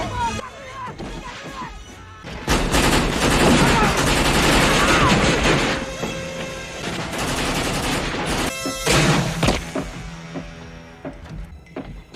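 Gunfire in a film crime scene, loud bursts of shots and crashes filling most of the span amid a busy soundtrack, with people talking over it.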